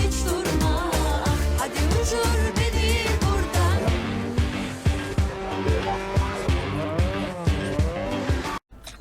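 A car in the PUBG video game revving and accelerating hard, with tire squeal and skidding over a loud, continuous engine drone, ending in a brief cutout.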